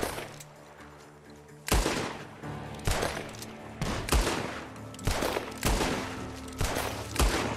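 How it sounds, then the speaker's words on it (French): Suppressive gunfire in Red Dead Redemption 2: a series of loud, sharp gunshot bursts about once a second, each cracking then rolling off into a reverberant tail over a steady background din. "Tire de suppression"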